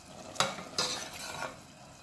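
Creamy shrimp curry stirred in a pan, a quiet background simmer broken by three soft scraping strokes of a utensil against the pan, each a short swish about a third of a second apart.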